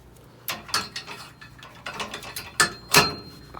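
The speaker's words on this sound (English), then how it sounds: "So I take one of the ends, hook it there, and you want to crisscross your safety chains." Tow car safety chains being hooked onto a hitch receiver, a series of close metallic clinks and rattles in short irregular bursts, with no talking.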